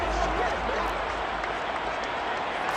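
Stadium crowd in Madden NFL 23 during a football game with the home side holding a big fourth-quarter lead, a broad steady cheering and clapping roar that fills the whole moment, with a commentator's voice over it.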